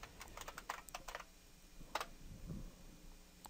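Someone types on a computer keyboard to log in to an Ubuntu server, a quick run of light, close clicking keystrokes, then a short pause and a few more taps, quiet and alone.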